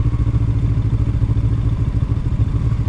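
KTM Duke 125 motorcycle with a flat battery failing to start, heard close up as a loud, steady, rhythmic mechanical churning that pulses evenly throughout without catching.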